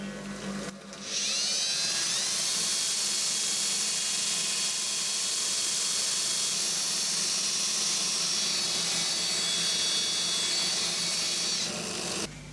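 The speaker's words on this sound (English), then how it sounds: "cordless drill, Scotch-Brite belt." A cordless drill spins a Scotch-Brite belt to speed-finish machined steel die holders, giving a loud, steady, close hissing whir that runs almost the whole time and then cuts off abruptly.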